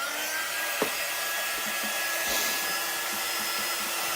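A hair dryer blows continuously on chalk paste used for wall decor, a steady close whir with a few faint knocks in the background and no speech.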